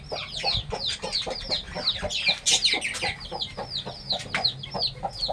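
Several chickens and chicks cluck busily and repeatedly, close by, with overlapping rapid calls and a few louder squawks.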